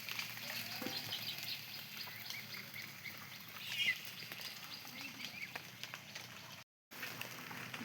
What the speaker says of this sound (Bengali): কিচিরমিচির কিচিরমিচির করে চিল্লাচিল্লি করে এই দেখছেন